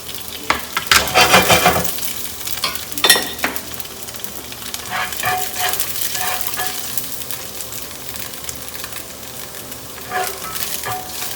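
Chopped garlic sizzles steadily in a pan for a tofu and broccoli stir fry, with stirring scrapes and clinks over a continuous frying hiss.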